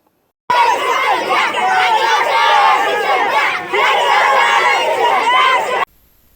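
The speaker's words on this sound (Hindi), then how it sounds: "पैठन ताल्लुक़े के लाखे गांव ज़िला परिषद स्कूल के तलबा ने टीचर के तकर्रुर के मतालबे पर पंचायत समिति दफ्तर पर ज़ोरदार मुज़ाहरा किया" Students of a Zilla Parishad school in Lakhegaon, Paithan taluka, protest loudly outside a Panchayat Samiti office, a dense crowd of shouting and chanting voices that holds steady for about five seconds, with a brief dip midway, then cuts off.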